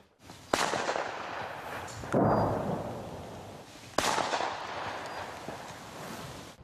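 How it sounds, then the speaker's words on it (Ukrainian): Shotgun blasts aimed at a drone in war-torn Pokrovsk: three sharp, loud reports spaced a couple of seconds apart, each followed by a lingering rumbling echo. "Після кількох пострілів з рушниці безпілотник загрози вже не несе."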